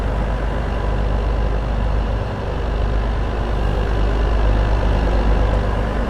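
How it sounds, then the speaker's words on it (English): A Winter Wolf truck engine idles in Farming Simulator 22, a loud, steady low rumble that holds constant throughout with no talking. "we're going to be using this Winter Wolf truck a little bit more"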